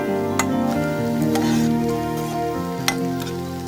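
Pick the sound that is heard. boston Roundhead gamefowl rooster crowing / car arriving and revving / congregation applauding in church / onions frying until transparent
onions frying until transparent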